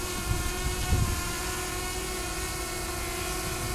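A DJI Mavic Air drone hovers in place outdoors, a steady high-pitched propeller whine holding a constant tone, with a couple of low thumps early on.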